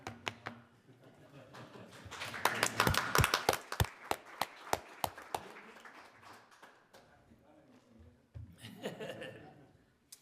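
A small group at a committee meeting clapping in scattered bursts mixed with chuckles and laughter, sharp individual claps standing out, rising then thinning, with a brief second flurry near the end.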